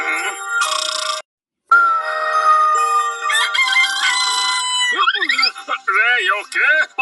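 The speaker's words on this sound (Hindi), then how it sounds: "5 बज गए, बांग देने का समय हो गया से।" Rooster crowing in a Lego stop-motion cartoon, several bright, warbling calls arriving one after another after a short ringtone-like melody and a brief pause, loud and close.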